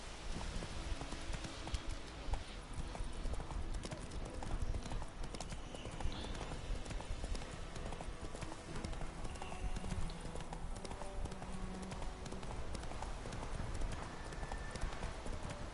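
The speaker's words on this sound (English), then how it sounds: "now I can call my horse." Hooves clip-clop in a quick, steady rhythm as a horse gallops continuously in the video game The Witcher 3: The Wild Hunt, fairly close and even in loudness throughout.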